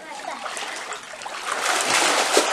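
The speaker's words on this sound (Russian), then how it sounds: "поплыла Аня под водой" Steady splashing and sloshing of swimming pool water close by as children swim, continuous throughout and growing a little louder toward the end, with faint voices in the background.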